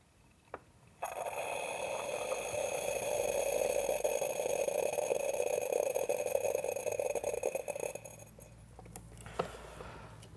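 An AeroPress plunger pressed down steadily over a fine espresso-style grind from a Prismo, giving a continuous hissing, airy rush that holds for about seven seconds and then tails off into faint clicks.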